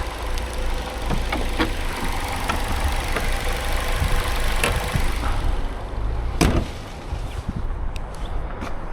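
A noisy engine on a 2019 Jeep Wrangler runs steadily nearby, a continuous rough rumble with occasional sharp clicks and taps on top, no talking.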